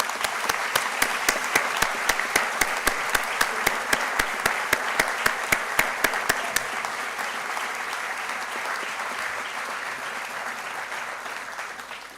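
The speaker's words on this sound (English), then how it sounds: "Give yourself a big round of applause, please." A graduating class and guests at a town hall ceremony burst into sustained applause, dense clapping filling the room for about twelve seconds with a few sharp claps standing out early before settling into an even roar.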